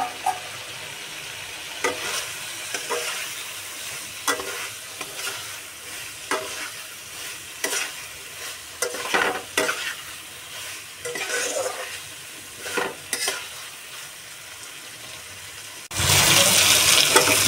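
Taro stalks fry in spiced oil with mustard paste, a soft sizzle broken by repeated scraping stirs of a spatula; near the end a sudden loud hiss bursts in.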